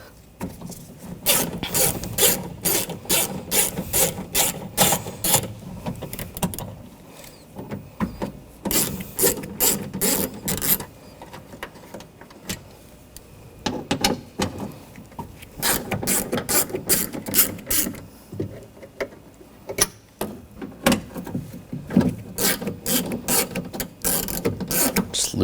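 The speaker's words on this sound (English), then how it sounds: "Then we're going to take these 3 bolts out." A ratchet with a 10mm socket backs out bolts inside the door of a 2014-2020 Nissan Rogue while its rear window regulator is being replaced. Fast, close clicking comes in repeated bursts with short pauses between them.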